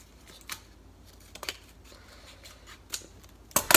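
Scissors snip several times while pizza is being made in a home kitchen, a few crisp separate cuts spaced apart, ending in a louder close burst.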